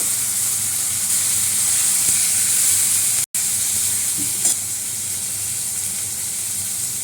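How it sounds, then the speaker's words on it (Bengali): Green chilli, cumin seeds, bay leaf, onion and tomato frying together in oil: a constant close sizzle and hiss with faint stirring, broken by a split-second gap midway, no speech. "কাঁচা লঙ্কা দিয়ে দিলাম, জিরে ফোড়ন দিয়ে দিলাম, তেজপাতা দিয়ে দিলাম, এই পেঁয়াজ আর টমেটোটা দিয়ে দিলাম"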